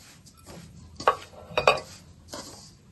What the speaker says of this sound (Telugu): చక్కెర వేసుకుని ఇలా కలుపుకుందాం.